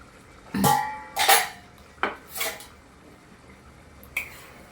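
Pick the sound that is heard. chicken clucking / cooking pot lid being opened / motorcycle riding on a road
cooking pot lid being opened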